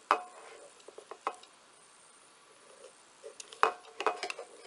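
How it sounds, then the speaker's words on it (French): A utility knife scores masking tape along a ruler, giving faint, quiet scrapes and light ticks scattered over a few seconds, several small contacts near the end. "je vais faire un trait avec mon cutter pour savoir où couper"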